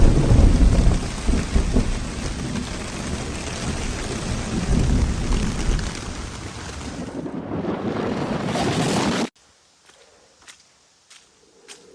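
A big thunderstorm on the Superior Hiking Trail: loud, dense rain and wind roar with rumbling thunder for about nine seconds, then it cuts to near quiet with faint, sparse ticks.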